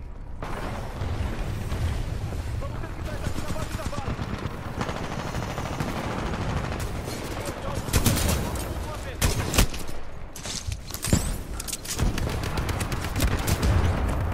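Rapid automatic gunfire and repeated weapon bursts from the video game Titanfall 2, loud and dense, with sharper clusters of shots in the second half.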